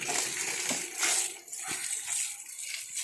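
Water is poured over a small child during a bath, with close, uneven splashing and sloshing that rises and falls in short bursts. No voices are heard.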